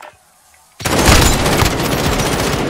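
Sustained burst of video game gunfire from a frontline soldier shooter, a loud, continuous automatic rattle that starts abruptly after a short quiet moment and keeps going to the end.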